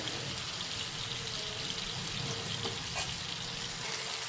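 Tandoori chicken pieces frying in oil in a pan, a steady soft sizzle and crackle with faint stirring and scraping as the pieces are turned, no talk.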